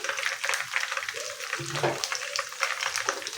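Garlic frying in hot oil in a pot, a continuous crackling sizzle with occasional stirring, moderately loud and close.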